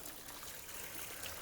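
Water trickles and splashes steadily from a conch-shaped spout in a park, a soft continuous hiss of flowing water heard alone at low volume.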